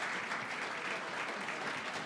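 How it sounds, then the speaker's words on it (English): A crowd in a lecture audience applauds steadily, a dense, even wash of clapping that stays at a constant level throughout with no voices over it. "I'm ready for applause."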